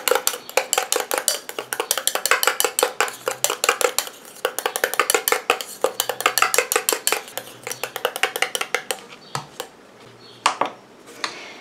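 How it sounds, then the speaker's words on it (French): A homemade soothing aftershave cream mixture is being stirred, the utensil clinking rapidly and steadily against the side of the bowl. The clinks are close and bright and run alone for about ten seconds, then slow to a few scattered taps. "Et je remélange."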